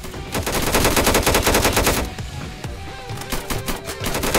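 Rifle fire in a Minecraft version of the PayDay 2 video game: loud rapid automatic bursts, then a pause with scattered single shots before the rattling bursts resume.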